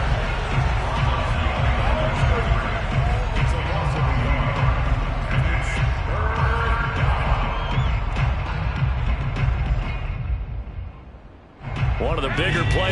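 Crowd noise in a 2K American football video game, a dense roar of cheering that stays loud and continuous, dips briefly near the end, then surges back, with commentary voices talking over it.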